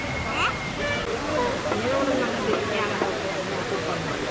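A waterfall near Kodaikanal rushes in a continuous broadband wash of falling water, heard at moderate distance beneath people talking.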